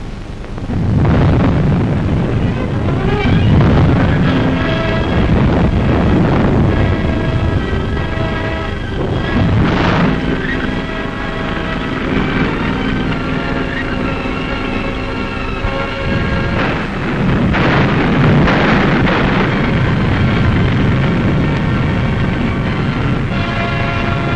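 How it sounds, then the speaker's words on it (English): Captured German artillery fires in Battle of the Bulge war footage. Heavy, continuous booms and blasts roll loudly for the whole stretch, dense and overlapping. "The Germans' own guns, captured, were now turned against them."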